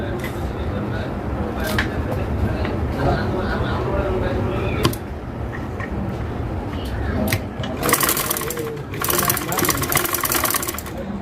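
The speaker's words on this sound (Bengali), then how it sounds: "আমরা এটাকে সেলাই দিয়ে আটকে নিব" A sewing machine stitches around the neckline of a readymade dress, its fast mechanical whirring running nearly continuously as a person talks over it.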